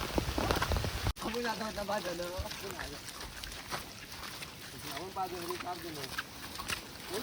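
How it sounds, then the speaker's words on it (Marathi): Heavy rain patters in the background on a mountain trail while people talk over it, their voices louder than the steady downpour. "मरणाचा पाऊस आहे"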